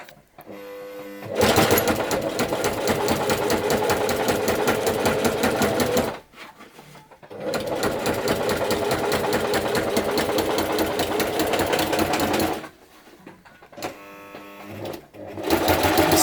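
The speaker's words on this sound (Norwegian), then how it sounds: "runde med symaskinen i dag" A sewing machine runs in long loud stretches of rapid mechanical stitching, stopping twice for short quiet pauses before starting up again.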